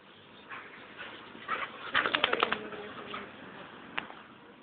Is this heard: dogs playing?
yes